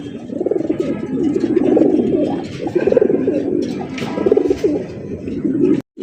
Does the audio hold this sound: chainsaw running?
no